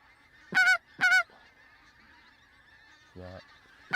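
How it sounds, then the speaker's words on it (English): Geese honk overhead at a wildfowling spot, two sharp close calls in quick succession followed by a lower, fainter honk a couple of seconds later against a quiet background. "Oh, typical, there's geese coming."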